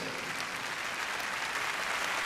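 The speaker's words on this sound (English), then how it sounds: "Please, he deserves an applause." Audience applause honoring a political party leader at an evening event, dense and steady clapping throughout the short moment.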